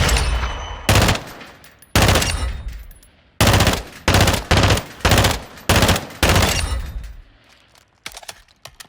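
Loud, close bursts of automatic gunfire from the FR Avancer assault rifle in a video game, firing about eight separate sprays with short gaps between them, ending in a few scattered single shots.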